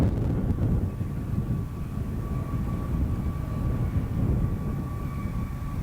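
Space Shuttle Discovery rolls out on runway 15 at Kennedy Space Center after main gear touchdown on mission STS-102, a steady loud broadband roar with a faint sustained tone throughout, no voices.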